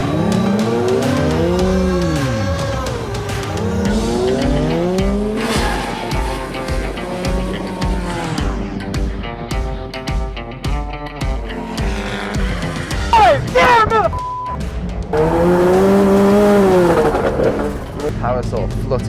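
A drift car on a qualifying run at an Irish Drift Series event, engine revving and swooping in pitch while tires squeal in long loud bursts, with a voice talking throughout.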